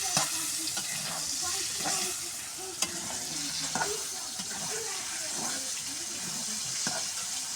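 Stirring and sautéing a vegetable bhaji of banana in a frying pan: soft sizzling under a steady hiss, with repeated scraping clinks of the spoon against the pan at close range.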